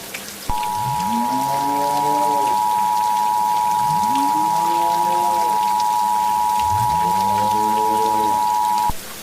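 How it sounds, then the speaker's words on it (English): Steady rain falls throughout an emergency alert scenario where the sky rains blood, beneath a constant electronic tone and three rising, wailing tones that repeat at even intervals. "It is starting to rain blood right now."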